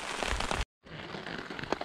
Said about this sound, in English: The sound of the rain on the tarp, I could almost take a nap.